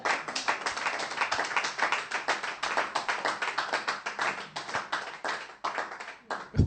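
A church congregation claps in praise of the Lord: steady, rhythmic handclaps from many people, sustained and fairly loud with no voices over them.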